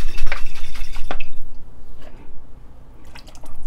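Loosened, watery pasta sauce poured from a jar into a lasagna pot, giving close wet glugs and drips, a few sharper splashes early on, then a fading trickle.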